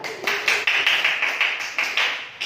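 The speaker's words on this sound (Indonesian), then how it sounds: "Terima kasih, tepuk tangan." A classroom group claps in a steady rhythm, a run of sharp, evenly spaced hand claps close by, roughly a dozen strokes with no talking over them.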